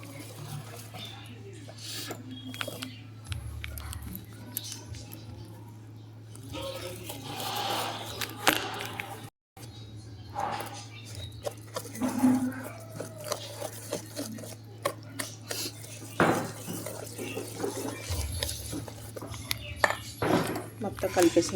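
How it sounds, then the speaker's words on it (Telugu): A spoon scrapes and clinks in a bowl as palm fruit batter is mixed with grated coconut, with irregular soft knocks throughout and a voice talking at times. "ఇప్పుడు ఇదంతా కూడా అన్నీ బాగా కలిసేట్టుగా మనం బాగా మిక్స్ చేసుకుందాం"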